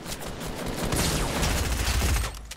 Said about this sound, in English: Time for a shotgun.